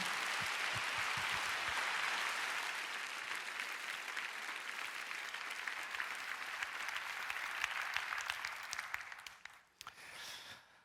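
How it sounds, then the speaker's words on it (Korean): A church congregation at an evening prayer service gives a loud, sustained round of applause for the arriving pastor, the clapping dense and steady before thinning and dropping away near the end. "감사한 목사님 나오실 때 힘찬 박수로 환영하며 맞이하겠습니다"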